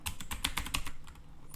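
Code is typed on a computer keyboard in a quick run of about a dozen crisp, close key clicks, fairly evenly spaced, with a short pause near the end before one more press.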